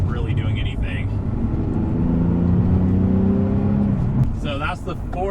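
Nissan 370Z engine blipping and rising in revs as it rev-matches a downshift, a steady loud drone with a climbing tone through the middle, then easing off near the end.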